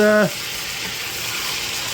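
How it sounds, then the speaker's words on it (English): Lamb sizzles steadily in a hot frying pan, a constant crackling hiss after a short tonal blip at the very start. "that's been sizzling for a good few minutes"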